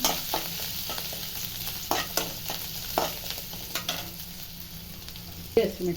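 Chopped ginger sizzles steadily in hot oil in a pan for gobi manchurian, with repeated stirring scrapes and clinks breaking through the continuous frying hiss, close and moderately loud, no talk.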